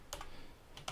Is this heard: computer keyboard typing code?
yes